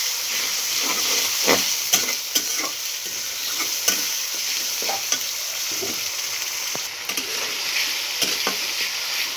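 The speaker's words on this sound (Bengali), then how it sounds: "আর আমি এটাকে সুন্দরভাবে তেলের সঙ্গে একটু ভেজে নেব" Ginger garlic paste fries in hot oil with a steady, loud sizzle, while a spoon stirs through it in repeated scraping strokes; no one speaks.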